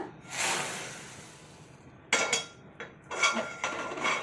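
A kadai pan set back onto a stove, with a muffled scrape first and then several metallic clanks and rattles in short bursts, close by, with no talking.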